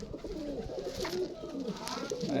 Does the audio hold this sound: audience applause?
no